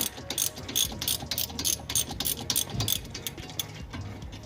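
A ratchet undoes a bolt on a Subaru's front brake assembly during a rotor and pad job, giving a rapid series of sharp, close clicks in bursts with brief pauses between strokes.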